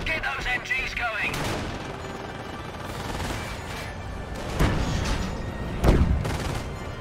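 Battle noise from Company of Heroes: machine gun fire and scattered explosions rumble at moderate level in a World War II mission around Caen, with a couple of louder blasts near the end and a voice talking over it.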